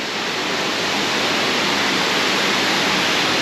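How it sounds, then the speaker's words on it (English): A waterfall near Füssen in Bavaria, Germany, roars as a loud, steady, broadband rush of falling water, close and unbroken throughout with no voices. "And they have this beautiful waterfall"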